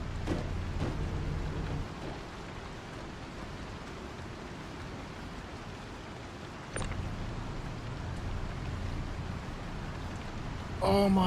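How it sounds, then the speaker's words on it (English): Rain falls in a video game, a steady broadband wash of hiss that shifts in level a few times, with a faint rumble underneath and a brief sharp tone near the end. "It's freaking rain."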